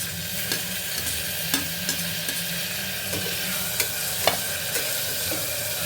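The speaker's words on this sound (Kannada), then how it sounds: "ಈಗ ಟೊಮೆಟೊ ಹಾಕ್ಕೊಳ್ತಾ ಇದ್ದೀನಿ." Tomatoes stirred in a frying pan for tomato bath, with frozen peas nearby, making a continuous sizzle broken by regular spatula scrapes and taps against the pan, close-up with no talking.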